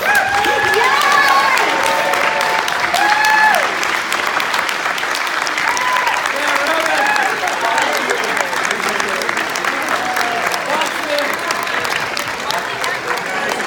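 Loud, sustained applause fills the room at a film world premiere Q&A, with crowd cheering and scattered voices mixed into the dense clapping throughout.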